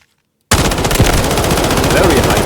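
Automatic gunfire from a weapon at a firing range in a shooter video game, a loud, rapid, sustained burst starting abruptly after a short silence and continuing to the end.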